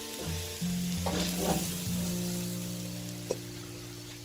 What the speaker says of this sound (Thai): ผัดไปเรื่อยๆ จนกว่าเครื่องทุกอย่างเข้ากันนะ